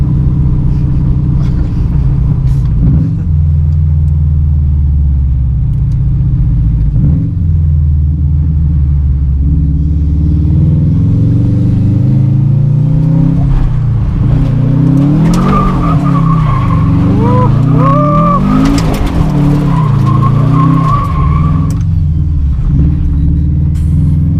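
A Subaru GC8 STI with a very loud engine revs hard and drifts, its rumbling engine rising and falling in steady surges with tyre squeal joining in the second half.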